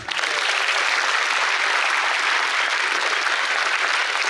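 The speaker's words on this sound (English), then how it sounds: "Please join me in welcoming Acharya Prashant with a big round of applause." Loud, dense applause from a large university audience welcoming a speaker on stage at IIT Guwahati, a continuous roar of clapping that stays even and full from start to finish.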